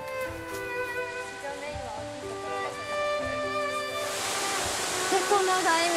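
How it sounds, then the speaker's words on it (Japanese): The lower falls of Gyoji-ga-taki, about 16 metres high, send out a steady broadband rush that swells louder toward the end, heard beneath sustained melodic music. "これが行司ヶ滝の尾滝と言います"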